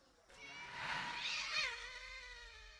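A cat meows once in a video game, a single drawn-out, rising and falling cry heard close and clear over faint background ambience, with no speech.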